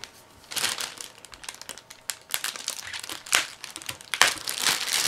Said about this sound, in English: Pull off the tape here.